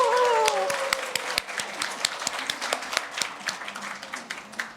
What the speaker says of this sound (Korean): 우리 좀 격려 박수 한번 해줘야 되죠.